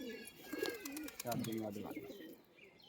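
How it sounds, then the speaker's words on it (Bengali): Several pigeons coo in soft, wavering, repeated calls close by, faint overall, with a few brief chirps mixed in at a pigeon loft where birds are kept for sale. "আপনারা দেখুন পায়রাগুলো"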